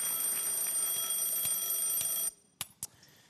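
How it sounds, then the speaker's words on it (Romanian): An alarm clock rings loudly and continuously during a stand-up and magic act at a talent show final, then cuts off, followed by two brief sharp knocks in near silence. "mi-a sunat ceasul"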